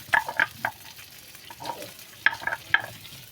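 Oil sizzling and spattering in a wok after fish frying, with stirring scrapes, a series of short crackling bursts close by and no voices.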